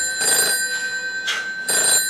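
A telephone bell rings in repeated bursts, about three rings with short gaps, loud and close, with no voices over it.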